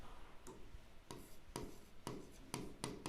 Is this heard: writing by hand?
yes